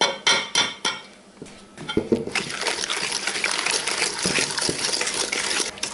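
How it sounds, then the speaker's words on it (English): Eggs cracked into a bowl and whisked into oil and sugar for carrot cake batter: a few sharp taps and knocks at first, then steady, rapid clinking and wet sloshing, close and fairly loud, with no talking. "Crack in the eggs and whisk those up."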